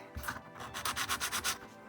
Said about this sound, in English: sanding stick out, just take any burrs.